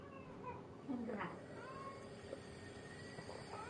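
A cat meows a few times, short and fairly faint, inside Final Fantasy XIV gameplay, set against steady game ambience and background sound.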